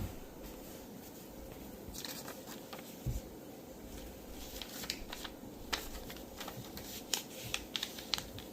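Paper folded edge to edge for an origami cross, heard as soft, close crinkles and light taps in quiet surroundings, with a faint background hum.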